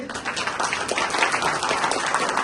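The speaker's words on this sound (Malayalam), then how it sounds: "ഇത്രയും ശക്തി മതി കൈയടിക്ക്" An audience at a training session claps together, a dense burst of applause that holds steady for a couple of seconds with no talk over it.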